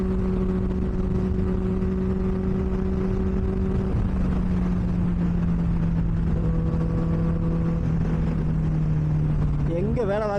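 A Benelli 600i motorcycle cruising on a highway, a steady loud engine and exhaust drone with wind rush and a shift in pitch partway through, under a rider's occasional talk.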